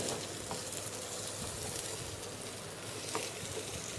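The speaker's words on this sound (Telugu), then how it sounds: "నూనె ఎలా కదులుతూ ఉంది ఇవి మగ్గుతూ ఉన్నాయి అనమాట" Stuffed okra (gutti bendakaya) frying in oil in a covered pan gives a steady, close, even sizzle with a few faint pops scattered through, and no one talking.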